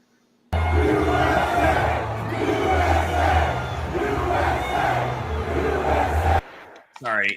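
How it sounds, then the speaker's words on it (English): A big football crowd at a Steelers game roars and chants in loud rhythmic waves for about six seconds, then cuts off abruptly before a voice speaks. "He was cheered by the crowd."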